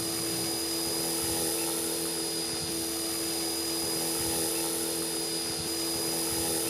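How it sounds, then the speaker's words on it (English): An ALIGN T-REX 450 radio-controlled helicopter in flight, giving off a steady, close, high-pitched motor whine and rotor buzz that holds continuously with only slight wavering and no voices. "The helicopter will fly backward. Then fly the helicopter back at the home position."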